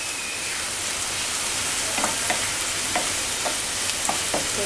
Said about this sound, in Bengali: যে রসুন আর পেঁয়াজটাও ভাজা হয়ে গেছে।